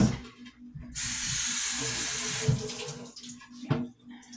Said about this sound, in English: let me go ahead and rinse off this